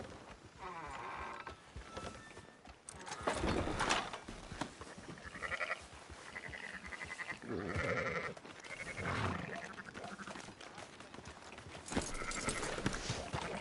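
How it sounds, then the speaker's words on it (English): Several sheep bleat in a loose, uneven series, voices rising and falling at moderate distance over a busy outdoor background, with faint talk now and then. "Fine sheep."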